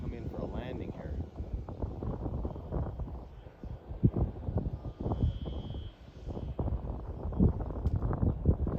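An E-Flite 300 Extra electric RC airplane comes in to land on a windy day, its thin motor whine faint and wavering behind heavy wind buffeting the microphone, while people talk nearby.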